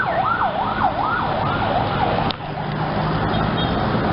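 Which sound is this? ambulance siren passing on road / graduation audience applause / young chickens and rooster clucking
ambulance siren passing on road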